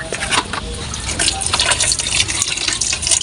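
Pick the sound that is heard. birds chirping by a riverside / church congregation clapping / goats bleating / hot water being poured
hot water being poured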